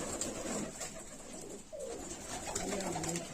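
Pigeons in a coop cooing and scuffling close by, with a steady run of low coos and a brief rising call near the middle over constant background hiss.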